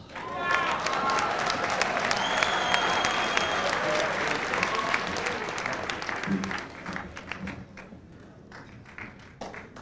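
A crowd applauds graduates at the Art Institute of Seattle 1999 commencement, dense clapping filling the hall and thinning out over the last few seconds, with faint voices mixed in.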